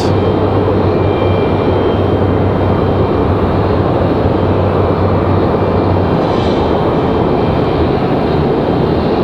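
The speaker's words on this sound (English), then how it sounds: "Looks like it could be one of our Cessna Grand Caravans." A Cessna Grand Caravan turboprop at Raleigh Durham International airport gives a loud, steady engine roar with a droning hum that holds evenly throughout.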